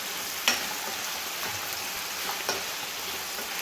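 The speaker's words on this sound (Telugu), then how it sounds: "ఇవన్నీ నూనెలో బాగా వేగాలి." Chicken frying in oil with spices for a dum biryani, a steady broadband sizzle filling the clip with a couple of brief crackling pops, close and even, with no talking.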